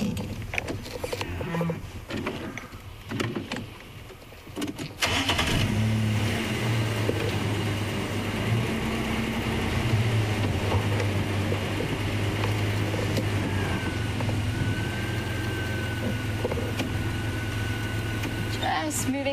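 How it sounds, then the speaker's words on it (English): A safari vehicle's engine idles and then shifts out of low range, a low steady drone that grows fuller after a clunk partway through, with voices talking over the first few seconds. "Just moving the car out of low range"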